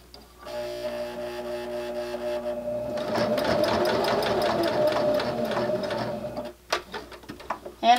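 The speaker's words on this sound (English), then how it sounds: "Roll our needle down, and we're going to just stitch slowly" A sewing machine stitches slowly across a fabric wristlet keychain near a D-ring: a faint whirr builds into a steady, close rapid mechanical chatter for several seconds, then stops, followed by a few scattered clicks and handling sounds.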